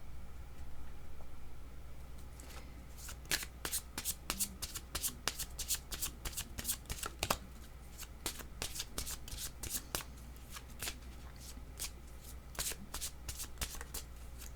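Tarot cards are shuffled by hand in a long run of quick, crisp flicks and riffles, close and fairly quiet over a low hum, with no talk.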